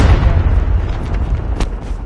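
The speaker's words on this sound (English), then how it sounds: "Hostile predator missile inbound." A predator missile explosion in Call of Duty Mobile booms loudly at once, its low rumble rolling and fading over two seconds, with a brief sharp crack near the end.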